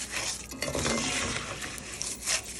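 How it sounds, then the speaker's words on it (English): Garlic sizzling in a pan for rice, with a steady frying hiss, spoon scraping and light clinks of metal cookware, close and moderately loud throughout. "I already have my garlic ready that I'm gonna put in here."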